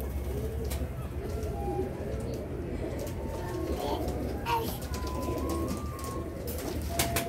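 Several pigeons coo softly and repeatedly, with scattered chirps and wing rustles over quiet ambient background, fairly close but low in level.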